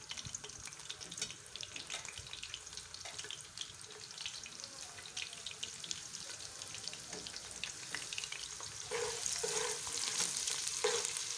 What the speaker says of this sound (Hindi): अब इसमें सबसे पहले ये प्याज जाएगी।